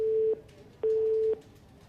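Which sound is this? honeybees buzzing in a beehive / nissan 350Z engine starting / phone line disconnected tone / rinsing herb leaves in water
phone line disconnected tone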